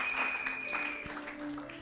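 A church congregation applauding and cheering in worship, a dense, steady wash of clapping and voices filling the whole moment, close and loud.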